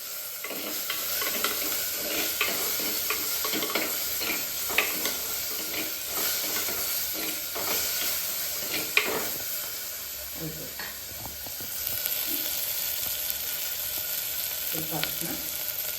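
Tomato frying in ghee in a pan gives a continuous close sizzle and hiss, with spoon scrapes and stirring knocks scattered across it and no talking over the cooking.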